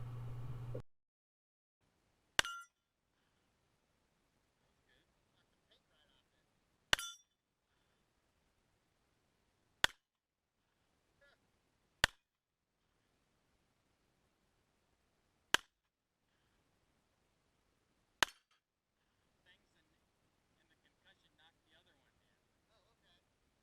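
A Springfield 1911 Range Officer .45 ACP pistol fired at a range, giving six sharp, loud, isolated shots spaced a few seconds apart, heard alone against near silence.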